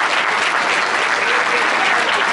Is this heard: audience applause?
yes